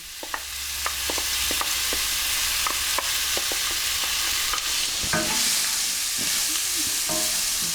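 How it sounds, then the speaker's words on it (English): Diced onion sizzles steadily in hot seasoned oil over medium heat with a bright hiss, punctuated by occasional clicks and stirring scrapes, close up and without talk. "So into our seasoned oil goes the diced onion."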